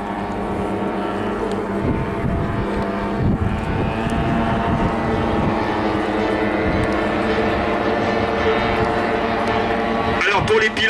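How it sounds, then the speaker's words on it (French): A Nieuport 28 biplane engine drones steadily after takeoff, a sustained buzzing tone at an airshow, with a person talking over it most of the time and a brief gust near the end. "ce Nieuport 28 que vous venez de voir décoller, il est tout à fait particulier parce que c'était celui de Quentin Roosevelt"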